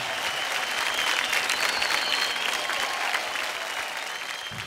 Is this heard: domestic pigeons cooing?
no